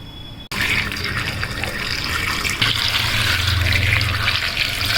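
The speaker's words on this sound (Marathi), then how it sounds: "आता हे पाणी काढून टाकायचं आणि अजून एकदा पाण्याने धुवायचं" Tap water gushes into a vessel to rinse raw mangoes, a loud continuous splashing rush that deepens into a fuller pouring tone partway through, without speech.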